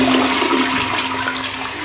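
A toilet flushing loudly and steadily up close, water rushing and swirling through the bowl for the whole stretch, with no one speaking over it.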